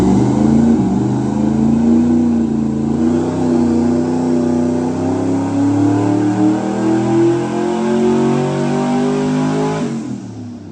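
Twin-turbo LS V8 on a dyno during a run with no boost: a loud, sustained engine roar climbing steadily in pitch for about ten seconds, then cutting off, with no talk.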